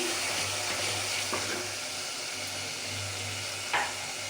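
Onion masala gravy fries in a pan while being stirred, producing a steady low sizzle with a faint background hum and a couple of brief scraping clicks from the stirring, close and without speech.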